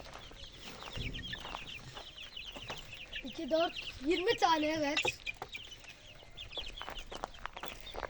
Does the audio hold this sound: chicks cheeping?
yes